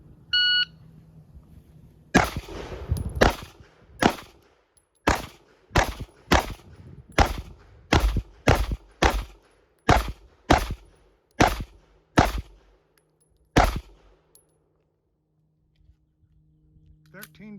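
A series of about fourteen sharp, loud gunshots from an H&K VP9L pistol at a shooting range, fired in an irregular rapid rhythm after a brief beep, with short gaps between shots and quiet afterward.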